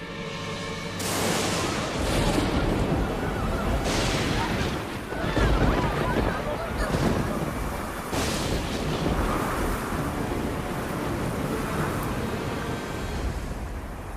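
A thunderous storm rages in an animated Little Krishna cartoon, meant to flood Vrindavan: loud, continuous roaring wind and rain broken by heavy thunder-like crashes, with a voice briefly heard over it.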